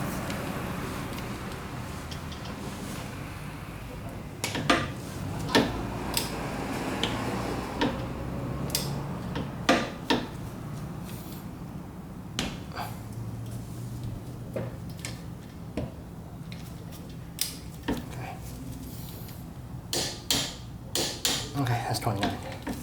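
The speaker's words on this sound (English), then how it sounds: "Now I just need to torque it." Torque wrench tightening the brake bolts on a 1999 Mazda Miata MX-5 to 29 foot-pounds, giving sharp metallic clicks and taps that come in irregular bursts over a constant background hum, with a voice talking at times.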